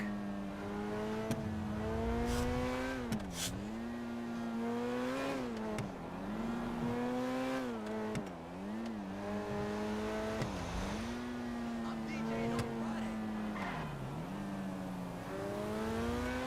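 A video game car engine drives continuously, its revs rising and falling in repeated swoops with gear-change dips, steady and fairly loud for the whole stretch with no talking.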